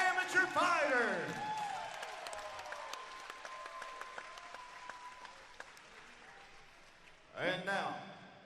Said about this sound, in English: can we give a big round of applause to two amazing amateur fighters?